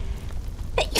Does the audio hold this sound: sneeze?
yes